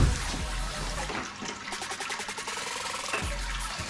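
Hot sparge water pours and splashes over grain in a Brewzilla all-in-one brewing system, a steady close liquid rush with some bubbling and gurgling throughout.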